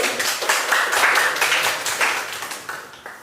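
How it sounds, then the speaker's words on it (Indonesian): A class claps together in a steady, brisk patter for a few seconds, fairly close and without any talking over it. "Tepuk tangan dulu."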